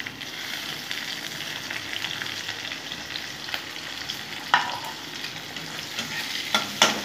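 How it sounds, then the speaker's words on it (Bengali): Chopped onions frying in spiced oil, a steady close sizzle with stirring scrapes and a couple of sharper clinks from a spoon against the pan, no voices. "পেঁয়াজ কুচিগুলো ছেড়ে দেবো।"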